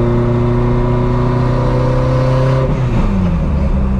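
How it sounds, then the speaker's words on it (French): A Renault 5 Maxi Turbo engine holds a loud, close, steady rev as the turbo builds, then the pitch sweeps down and settles into a lower drone with a faint whir. "Ouh, on a fait précharger le turbo."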